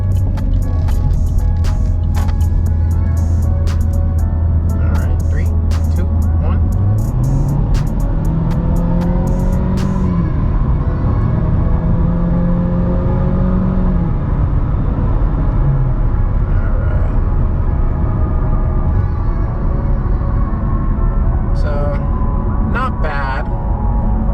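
A 2022 Chevy Malibu with a turbocharged engine accelerates, its loud steady road rumble and rising engine tones climbing through a couple of gear shifts, with a faint turbo whine underneath.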